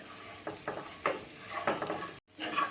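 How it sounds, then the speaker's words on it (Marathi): Green chillies being stirred in a pan after salt is added for a curd chilli dish, giving soft scraping strokes over a low sizzle, close and steady with a brief gap near the end. "मीठ घालूया आपण आणि परत छान व्यवस्थित मिक्स करून घ्यायचं आहे आपल्याला"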